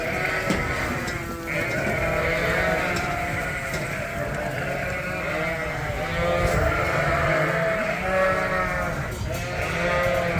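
A flock of breeding ewes bleating continuously on a sheep farm, many overlapping calls near and far forming a steady, loud chorus with no pauses.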